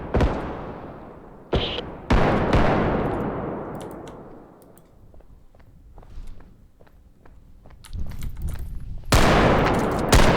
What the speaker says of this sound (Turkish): Baskı atışı yapıyorum.